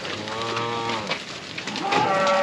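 Cattle in a pen moo loudly and close, two long drawn-out lowing calls one after the other, with faint background noise.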